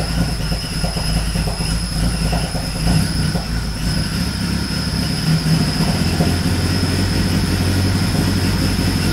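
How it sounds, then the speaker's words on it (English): A BMW E36 engine idling roughly, a loud, continuous, uneven rumble with rattly clatter and a faint high whine running throughout. "It is idling very rough."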